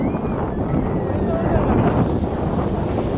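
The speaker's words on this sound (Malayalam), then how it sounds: "ഇതാ അത് നല്ല കാറ്റുണ്ട്. നല്ല കാറ്റ് തന്നെ." Strong wind at Azheekal beach in Kollam, near the harbour, buffets the microphone in a steady, loud roar that never lets up.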